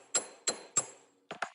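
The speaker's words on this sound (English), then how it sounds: "Now, I'm going to hammer this one just a little bit more." A small hammer strikes a piece of jewelry on a hard block, giving three sharp, evenly spaced metallic taps followed by a quicker cluster of lighter taps, close and clear.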